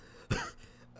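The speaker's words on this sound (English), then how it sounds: "Okay, finally, clear my throat." A single short, close throat clearing bursts out once, then quiet room tone returns.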